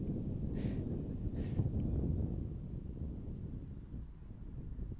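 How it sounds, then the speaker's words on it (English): Wind gusts buffet a camera microphone at an outdoor baseball game, a dense low rumble with a couple of brief bumps from the camera tipping over. "Big gust of wind blowing my camera over."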